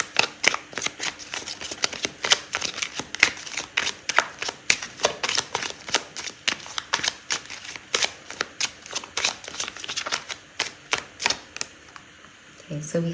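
A tarot deck being shuffled by hand in a rapid, steady run of crisp riffling card flicks, close and clear, continuing for over ten seconds before tapering off near the end.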